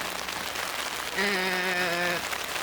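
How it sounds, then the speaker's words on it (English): Heavy rain falling as a dense, steady hiss that fills the whole stretch, joined midway by a brief sustained tonal hum, with no voices. "We're supposed to pack up, but there's too much rain."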